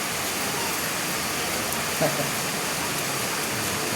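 Rain pours down steadily in a dense, even hiss that does not let up, with a faint voice briefly audible beneath it.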